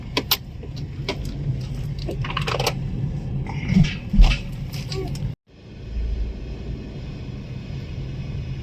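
A car rumbles along steadily near Mahad, Maharashtra, with interior rattles and clicks, faint voices now and then; the sound cuts out briefly before the engine hum resumes.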